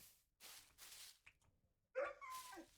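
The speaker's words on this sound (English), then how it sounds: "Oh, it is a dog." A dog in the Minecraft video game barks and yips in short faint bursts, a few separate calls with gaps between them, quiet and without talk over them.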